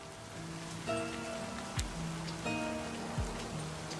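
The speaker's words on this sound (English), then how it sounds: "The raindrops fall on the paper, landing with soft patters." Steady rain falling in the video game Livber: Smoke and Mirrors, a soft continuous patter forming a quiet wash under gentle musical tones and occasional low thuds.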